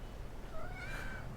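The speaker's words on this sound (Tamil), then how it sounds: "இது நம்ம வீட்டில் இருக்கக்கூடிய பூனைக்குட்டிங்க." Kitten meows at home, a single faint mewing call with a rising, drawn-out tone heard alone over a low background hum.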